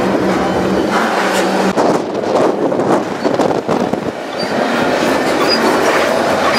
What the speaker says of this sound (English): This is one of the steepest railroad passes there is in the US, going over the Continental Divide.